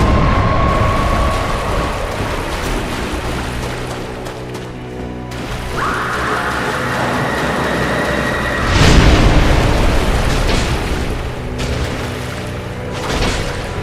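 An enemy explodes in Dark Souls Remastered with deep booming rumbles, a sharp burst near the middle and a long dark roar of game ambience and effects.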